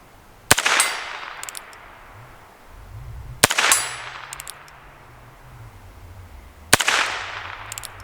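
Three sharp shots from a suppressed Heritage Rough Rider Tactical Cowboy revolver, spaced a few seconds apart, each followed by a metallic clang of the bullet striking a steel target, loud and close.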